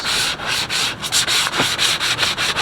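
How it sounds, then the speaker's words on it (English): Hand sanding a KBD SRT front bumper for a Dodge Charger before paint, with fast back-and-forth rasping strokes in a steady rhythm, loud and close with no voices. "Literally all we have to do is sand."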